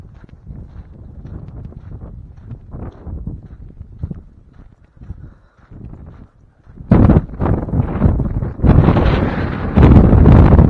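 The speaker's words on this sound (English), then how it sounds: "It's real windy up here." Strong wind blowing in the foothills buffets the microphone. Low, gusty rumbling starts moderately, then erupts into loud, roaring blasts over the last few seconds.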